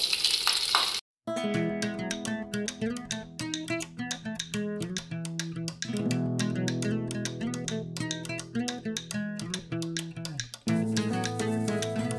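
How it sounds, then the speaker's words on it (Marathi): Chicken lollipops fry in hot oil with a steady, loud sizzle and crackle that runs almost continuously after a brief silence near the start, with a music-like tonal layer over it. "तर आता हे याच्यामध्ये आपल्याला घालून तळून घ्यायचं."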